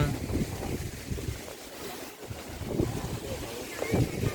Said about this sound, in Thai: รอให้ลมมันนิ่ง